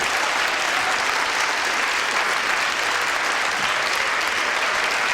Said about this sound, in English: Let's give them a round of applause for all the work they do.